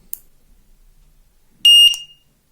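A bicycle anti-theft alarm from AliExpress gives a short, piercing electronic beep near the end. The burst is loud and close, preceded by a faint click and near silence.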